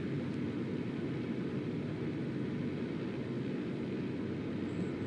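An aircraft flying in Microsoft Flight Simulator gives a steady, even engine drone and airflow roar, constant and moderately loud with no breaks.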